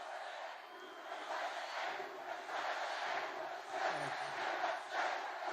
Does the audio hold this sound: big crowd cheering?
yes